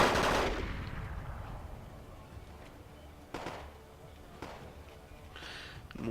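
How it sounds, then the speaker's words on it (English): An artillery barrage in the battlefield video game Wargame AirLand Battle opens with a heavy blast that decays into a rumble, followed by several sharp, spaced explosions over continuous low battle noise. "Left side still a constant artillery barrage back and forth."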